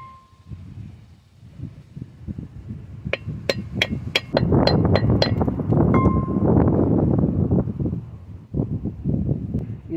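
A front wheel bearing race on a Ford E-series van is tapped into place, a quick run of sharp metallic hammer taps followed by a few softer knocks, close up, over a steady rushing background noise.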